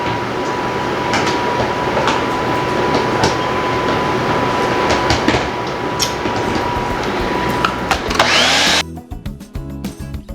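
A kitchen appliance grinds cauliflower and broccoli with a loud, steady whirring roar and scattered clicks, then cuts off abruptly near the end, leaving quieter clattering.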